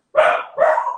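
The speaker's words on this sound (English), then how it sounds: "That's the dog." A dog barks twice in quick succession in a kitchen during a live cooking session, the barks loud, close and sharp, with no talking.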